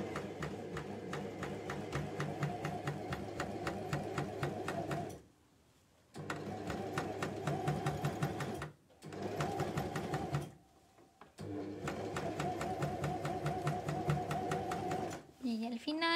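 A coverstitch sewing machine runs steadily over fabric in three long bursts, its rapid mechanical clatter broken by two brief pauses and a short stop near the end.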